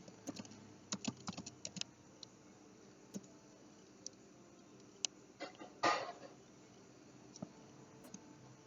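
Typing on a computer keyboard while entering figures in an accounting exercise, a steady patter of close, quiet key clicks with occasional harder taps and a faint background hiss, no talking.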